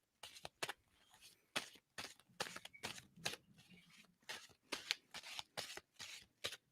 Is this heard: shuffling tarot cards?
yes